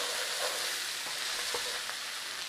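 Spices and minced meat for a Mexican chili lasagna fry in a pan with a dense, even sizzle, while a few faint scraping strokes of stirring sound through it.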